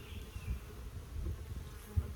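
Honeybees from an active hive of about five weeks hum in a soft, continuous low buzz, fairly faint and steady with slight swells, and no one speaking.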